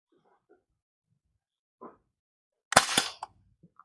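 A PVC bullpup toy gun fires a single sharp, close crack with a short rattling tail, preceded by faint quiet sounds.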